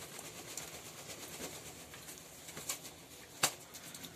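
Pigeons bathing in the sun, soft low cooing and faint splashing and flutters at a distance, with a brief sharp splash or wing flap near the end.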